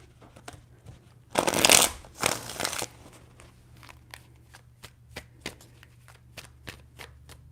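Tarot cards are shuffled in two loud, close riffling bursts, followed by a string of soft, scattered taps and clicks as the deck is handled, with no voices.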